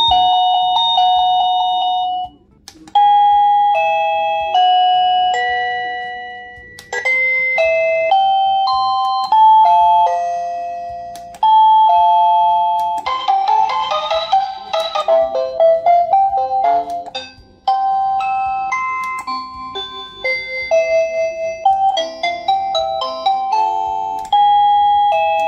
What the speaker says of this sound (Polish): Gong jest fabrycznie sparowany z głównym urządzeniem, więc poza wyborem dzwonka i głośności nic więcej nie musimy robić.